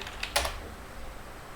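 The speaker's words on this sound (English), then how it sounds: "I'm going to type in my password" A few quick keystrokes on a computer keyboard while entering a password, a short cluster of close clicks followed by quiet room tone.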